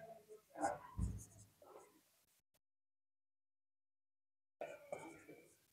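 Pen or chalk scratching out algebraic terms, short scraping strokes mixed in with a person speaking, then a silent gap before the talking resumes.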